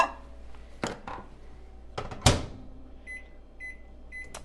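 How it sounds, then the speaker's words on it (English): A kitchen microwave oven heating a bowl of milk: a door bangs shut and a few clunks sound, then a steady low hum, with a short run of beeps near the end. "we're gonna stick this in the microwave again for 90 seconds"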